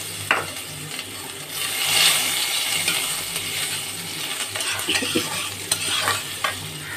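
Ginger and whole spices sizzle and crackle steadily in hot oil for a Bengali tempering, a broad continuous fry with occasional sharper pops and light clinks of a utensil.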